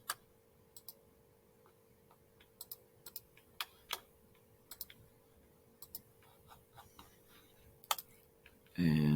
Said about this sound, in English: Every time you see a yellow dot, it's me clicking.